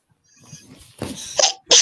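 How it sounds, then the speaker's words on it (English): A single short sneeze-like burst, close and fairly quiet, preceded by a soft intake of breath. "Pardon me. I've been sneezing all day."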